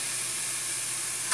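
A hot, already heated pressure cooker gives off a steady, close hiss like steam or sizzle, with a brief louder burst at the very end as marinated beef brisket pieces go in.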